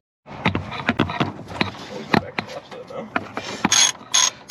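Ratchet working loose old, seized bolts and nuts while a front sway bar is fitted on a Mazda Miata, giving close, uneven clicking bursts alongside metallic clanks.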